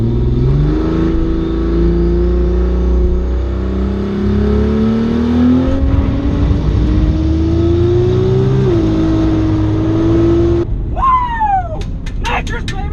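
A Toyota Supra drag car engine held on a trans brake and bump box revs loudly and continuously, its pitch rising in stages before cutting off abruptly, followed by a few brief high squeaks.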